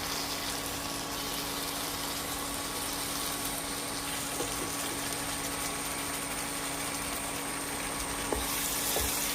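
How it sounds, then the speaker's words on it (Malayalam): Eggs sizzle in a pan of bubbling tomato masala for an egg roast, a close, steady frying crackle and hiss that runs unbroken for several seconds. "ഇനി അതിലേക്ക് മുട്ട ചേർത്ത് കൊടുക്കാം"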